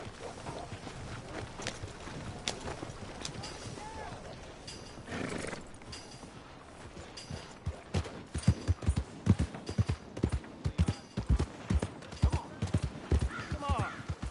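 Horse hooves clip-clop steadily through Red Dead Redemption 2, growing louder and more rhythmic toward the end, with a whinny partway through and a voice talking over the hoofbeats.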